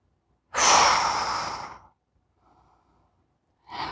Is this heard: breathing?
yes